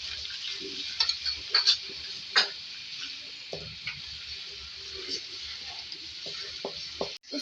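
Garlic and ginger paste sizzles in hot oil for a chicken pota karahi, a steady close frying hiss with scattered stirring scrapes and clinks of the spoon against the pan.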